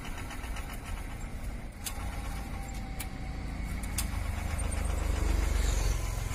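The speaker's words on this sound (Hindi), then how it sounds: "हम फिर से इस बाइक को स्टार्ट करने की कोशिश करते हैं।" A Honda SP 125 motorcycle engine turns over and sputters without catching, out of petrol, a steady mechanical churning under faint background noise that grows slightly louder.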